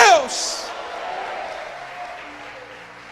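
Church congregation applauding briefly, a short burst of clapping that quickly fades into a faint wash of crowd noise with a voice underneath.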